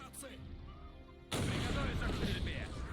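Gunfire and artillery in the Men of War 2 strategy game: after a quieter moment a heavy burst of shooting breaks in and rolls on as a dense, loud barrage.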